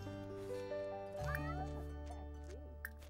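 A cat in The Sims 4 video game meows a few times in rising, wavering cries over a steady musical background, close and clear.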